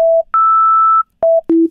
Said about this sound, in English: So here is a sine wave. I'll play it.